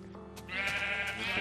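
Sheep bleating in a video game set in a blocky survival world, a single clear bleat swelling partway through and holding steady to the end, close and alone with no talk over it.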